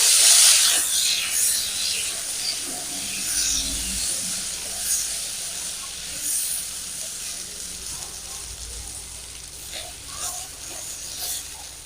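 Ginger paste added to frying potatoes in a pan gives off a steady, fairly loud hiss and sizzle, close by, rising and falling slightly as it is stirred.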